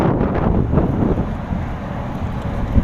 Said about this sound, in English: Really windy still.